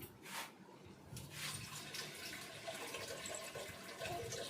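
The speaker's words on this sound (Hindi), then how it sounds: "चावल में डाल दिया मैंने पानी।" Water is poured into rice for cooking in a home kitchen, a faint, steady splashing flow that runs continuously for a few seconds, quiet and close.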